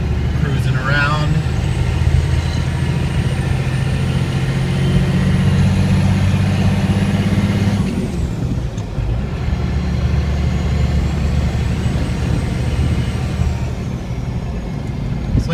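An FZJ80 Land Cruiser with a swapped 6BT diesel engine and NV4500 transmission drives along with a loud, steady cabin drone and rumble, briefly dipping as it shifts, with talking over it.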